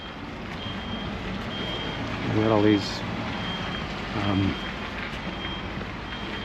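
Reversing beeps repeat at a steady pace from trucks at a port among cargo containers, faint and distant under a broad outdoor hum. Someone speaks briefly over it, and a louder vehicle passes twice.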